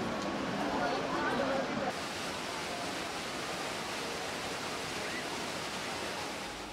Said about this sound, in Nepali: लौके झरनामा पानी खसिरहेको बेला